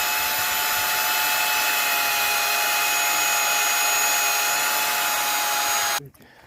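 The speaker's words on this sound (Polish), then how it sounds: "Wiercimy dziurki." A drill bores holes into a wall for mounting a starter strip for 20 cm polystyrene insulation, a steady loud whine that runs for about six seconds and then cuts off abruptly.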